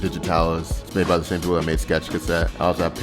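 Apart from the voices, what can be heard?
No everyday noises stand out.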